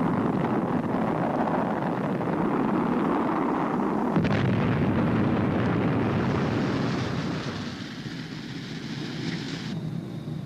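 A Sub-Harpoon missile striking a target warship, a sudden heavy explosion followed by a long rumbling roar that slowly fades.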